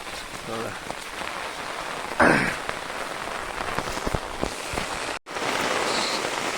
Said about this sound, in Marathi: आणि पाऊस नव्हता आणि अचानक पाऊस वाढलाय